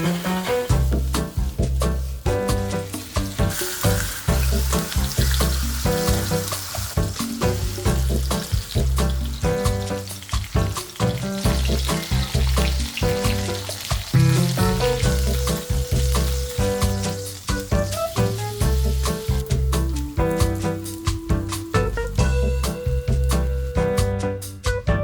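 Onions and filleted hot dog wieners fry in oil with a steady sizzle, but loud rhythmic music with a strong beat runs over it the whole time and largely masks the cooking sound.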